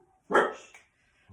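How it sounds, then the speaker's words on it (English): A dog gives one sharp, fairly close bark that quickly fades, and a faint second sound starts just at the end. "Excuse my dog for barking."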